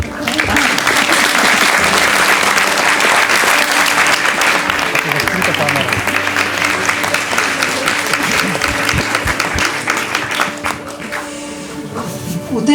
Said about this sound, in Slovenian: Lepo prosim vse igralce, da vstanejo, saj si zaslužijo en aplavz.